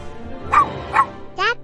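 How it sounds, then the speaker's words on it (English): A new puppy gives three short, high yips and barks, two quick ones followed by a brighter, rising one, close and fairly loud above a low background murmur. "time to say hello to the new puppy"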